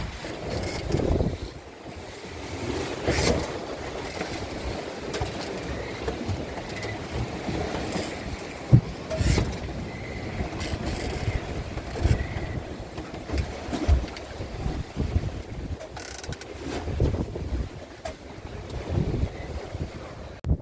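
Choppy, churning sea water around a sailing boat under way in a beam wind, steady rushing and sloshing of waves against the hull with buffeting wind noise on the microphone, continuous and fairly close.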